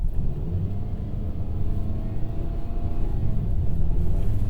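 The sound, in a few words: Ford Maverick pickup accelerating hard, wheel spin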